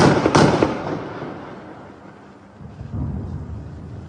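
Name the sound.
gunfire at night in the West Bank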